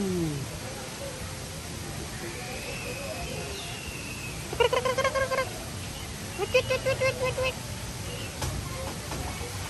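Geese honking at the San Diego Zoo: two clear bursts of rapid repeated honks mid-clip, moderately near, over steady outdoor crowd noise with faint talk.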